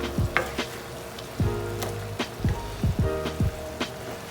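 Shrimp cooking down in a hot pan for shrimp and grits: a close, steady sizzle and crackle, punctuated by several brief scraping stirs at uneven intervals.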